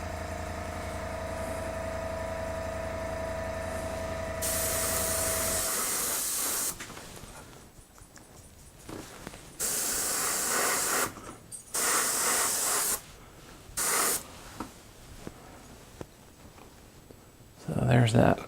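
Aerosol spray priming model rocket parts, bursts of hissing spray coming in several short passes with pauses between, with a steady background hum before them.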